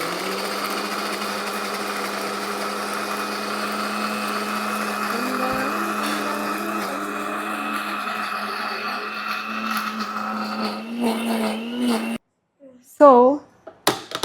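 Kitchen mixer grinder blending leaves into a hair pack paste, a loud steady high whine with a constant motor hum that wavers slightly as the load shifts, then stops abruptly near the end before a few short clatters.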